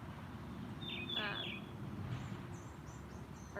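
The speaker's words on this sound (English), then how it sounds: "I'm being distracted by birds." Birds chirp outdoors, a short clear call near the start followed by fainter tweets, quiet and somewhat distant over a low background hum.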